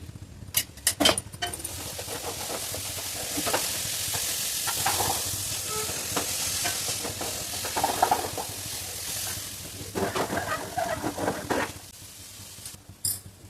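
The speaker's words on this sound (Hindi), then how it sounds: "ये साइड में ड्राई फ्रूट्स को भून लेती हूँ देखो, थोड़ा सा घी डालकर भून लेती हूँ" Dry fruits roasting in ghee in a pan, a continuous close sizzle with intermittent stirring scrapes and clinks of a spoon against the metal, steady and moderately loud, without talking.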